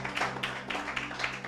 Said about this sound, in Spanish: ¿Cuánto le dan un aplauso a Cristo por esa palabra?